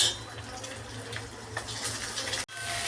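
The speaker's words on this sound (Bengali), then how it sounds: "জল ঝরিয়ে একটু ঠান্ডা জল দিয়ে ধুয়ে নিতে হবে।" Boiled pasta rinsed under a running cold-water tap, a steady close splashing wash of water that cuts off briefly near the end and then resumes.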